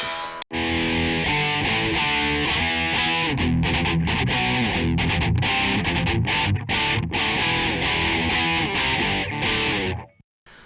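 A harsh, buzzy distorted electric guitar through an ADA MP-1 Classic tube preamp's recording output plays a riff of chords and notes for about ten seconds, then cuts off abruptly.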